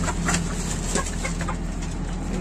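A flock of chickens clucks in a backyard coop, with overlapping close bird calls over a constant low hum.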